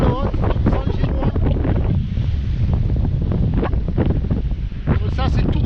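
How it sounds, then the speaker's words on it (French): Strong, gusty wind of 18 to 20 knots with gusts to 25 roars across the microphone of a sailboat running downwind under mainsail through the Strait of Bonifacio, a loud continuous rush with surging gusts and water noise beneath. "on passe dans les bouches de Bonifacio avec un vent de 18 à 20 nœuds et des rafales à 25 nœuds"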